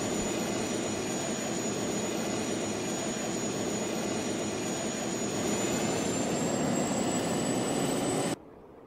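A jet airplane engine in the video game Just Cause 2 roars as a steady, loud, unbroken drone with a high whine on top, then cuts off abruptly near the end.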